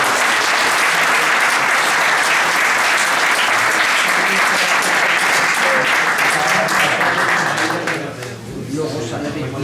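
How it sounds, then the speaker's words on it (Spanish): Audience at a talk on steppe habitats and endangered species applauds the speaker, a loud, thick, continuous applause that drops off briefly near the end before a few claps carry on, with some voices mixed in. "Pediría otro aplauso para David"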